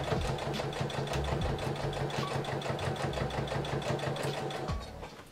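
A home sewing machine stitches a reusable fabric makeup-remover wipe, its fast needle chatter running in short bursts with brief pauses as the work is turned, close and moderately loud.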